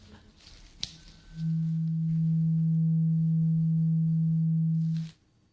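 A steady low-pitched hearing test tone hums for several seconds, then cuts off abruptly, with faint rustling before and after.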